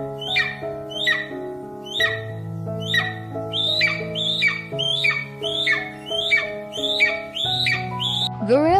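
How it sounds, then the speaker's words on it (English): A golden eagle calls in a rapid series of sharp, high, downward-slurred yelps, about two per second, loud and close over a steady sustained tonal backdrop. "Golden eagle."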